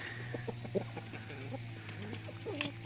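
Chickens cluck in short, scattered bursts at close range over a steady low hum, with no talk.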